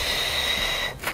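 A single audible exhale during a pregnancy yoga session, a short breathy push of air through the nose that fades and ends with a faint quick intake.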